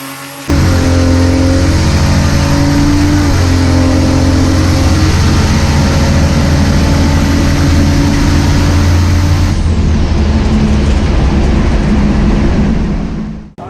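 A turbocharged six-cylinder Studebaker accelerates hard down a drag strip, its engine a loud, continuous roar that climbs in pitch before cutting off near the end.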